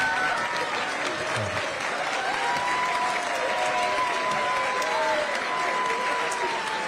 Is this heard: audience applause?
yes